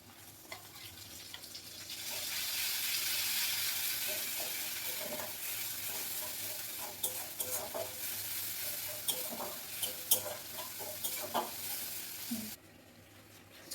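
Spices and turmeric sizzle steadily in a hot pan in a home kitchen, with close, repeated scraping strokes of a spatula stirring through the frying oil for over ten seconds before cutting off.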